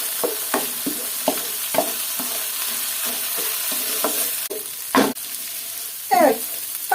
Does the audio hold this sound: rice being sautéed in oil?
yes